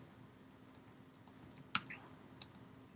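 Fingers tap on a computer keyboard in a quiet room, soft, scattered key clicks at an irregular pace, with one sharper, louder click partway through.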